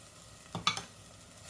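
A pan of doenjang and gochujang sauce is stir-fried over medium heat, giving a brief scrape-and-sizzle burst from a spatula amid quiet frying, with no talk.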